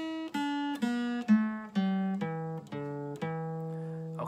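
Blues pentatonic scale plucked on a guitar using open strings and fretted notes, about nine clear separate notes in an even, stepping rhythm, each ringing briefly before the next, close and alone.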